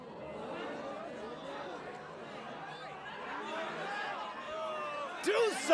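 A restless crowd of sumo spectators murmurs and chatters in an anime, a steady mass of voices that swells near the end with a sudden sharp burst.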